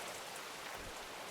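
Steady rain falls in the Gold Mining Simulator game, a soft, even wash of drops hitting surfaces without pause, with no voices.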